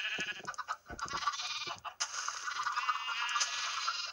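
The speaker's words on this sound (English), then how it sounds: "let's spawn some sheepies." Sheep bleating in the video game Minecraft, several wavering game bleats in quick succession, the last one long and sustained, close and fairly loud with no talking over them.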